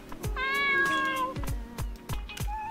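Cats meowing in the video game Dave the Diver, one long clear meow followed by shorter mews, over a steady beat of regular low thumps from the game, no talking.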